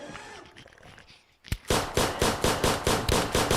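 Video game gunfire against zombies in an Unreal Engine 5 game: a sharp shot, then a rapid rhythmic burst of automatic fire, loud and close, following quieter game ambience.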